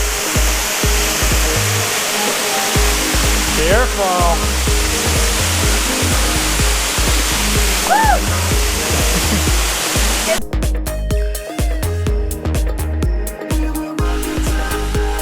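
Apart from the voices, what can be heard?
waterfall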